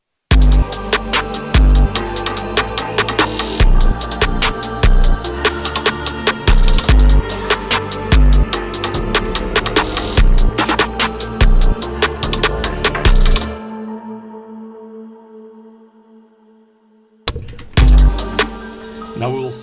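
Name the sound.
female choir with chorus effect in FL Studio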